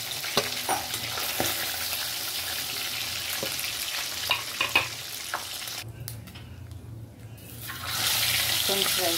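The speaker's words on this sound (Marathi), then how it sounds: "फ्राय करून घेणार." Surmai kingfish frying in a pan, a loud steady sizzle with scattered clinks and scrapes of the utensil, briefly dropping off midway before the hiss swells again.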